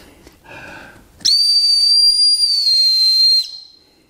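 A single shrill metal whistle blast sounds for about two seconds, loud and steady, after a brief faint breathy tone.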